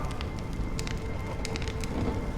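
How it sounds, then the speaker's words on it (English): Steady rain falls in a Honkai: Star Rail game scene, a dense even patter with scattered sharper droplet ticks, continuous and moderately loud throughout with no talking. "When will this rain ever stop?"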